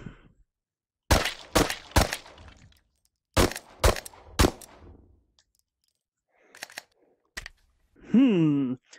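Several sharp gunshots in the virtual-reality shooter H3VR, loud cracks fired in two quick bursts of three with pauses between, followed by a few fainter clicks and a short spoken word.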